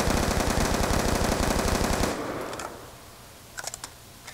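Rapid automatic gunfire in Black Ops 2 with the player prone, a loud, dense rattling burst lasting about two seconds, then quiet with a few faint clicks.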